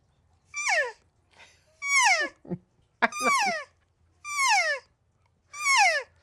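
Five drawn-out, rising-then-falling elk cow calls blown on a mouth call, spaced a second or so apart with short clicks between, close and fairly loud.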